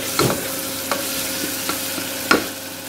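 Mutton and ridge gourd fry steadily in a pan with a soft continuous sizzle, broken by about four distinct scraping strokes of a spoon stirring them.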